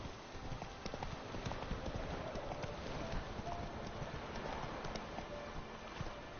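Horse hooves trot in a steady clip-clop rhythm in The Witcher 3, accompanied by a soft wind-like rush in the background.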